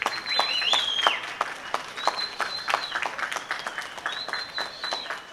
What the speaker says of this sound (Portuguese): A estreia foi aplaudida pelos passageiros.